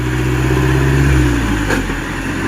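A truck engine revs close by, a loud, steady low rumble with a slight rise and fall, heard alone throughout.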